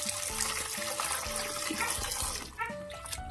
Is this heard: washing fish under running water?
yes